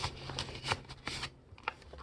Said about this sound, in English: I can fold out to create the wings